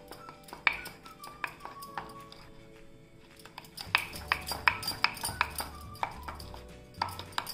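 A spoon stirs eggless vanilla mug cake batter with curd inside a mug, giving a quick series of clinks and scrapes against the sides, close but quiet, with a brief pause before a faster burst of stirring.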